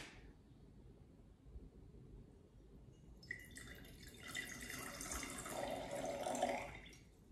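Water trickles and drips through a coffee filter while cold brew is made, starting as a faint low murmur and swelling into a brighter, louder trickling flow in the second half.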